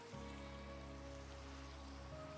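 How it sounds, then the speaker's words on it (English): Rain falls steadily in the Minecraft video game, a constant dense patter under a low sustained background tone, even in level across the short span with no speech. "Coming out of the rain, buddy."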